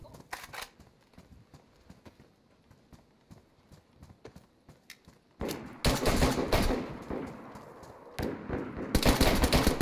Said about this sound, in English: I missed all those pistol shots